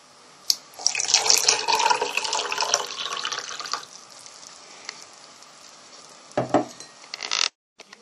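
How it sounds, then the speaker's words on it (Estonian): Lukewarm water poured into a test tube for a yeast experiment, a steady hissing splash for a few seconds that thins to a trickle, followed by a couple of faint clinks. "Lisa esimesse katseklaasi umbes 6 sentimeetri jagu leeget vett."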